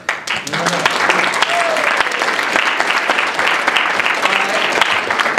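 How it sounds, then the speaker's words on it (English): Sustained applause from a sizable audience, dense steady clapping that holds at full strength throughout, with no voices standing out. "So round of applause."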